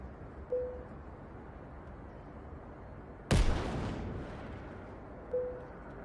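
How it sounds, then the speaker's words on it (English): Grenade explosion in an Unreal Engine game: one loud, sudden broadband blast mid-clip with a rumbling tail lasting about a second, set between two faint short pops over a steady background hiss. "Explosive grenades."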